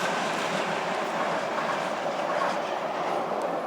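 A Moscow-style metro train rolls past with a steady, dense rumble and faint clickety-clack of wheels, continuous and fairly close throughout, no talking.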